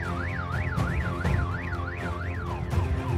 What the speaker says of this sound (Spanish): Las alarmas de los vehículos